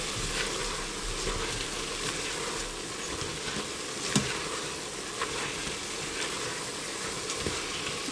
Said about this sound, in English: we're going to let these cook and toast up for just a minute or 2 in the pan